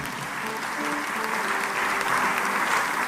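A church congregation breaks into sustained, dense applause that fills the room at a steady loud level, with crowd noise and faint voices mixed in.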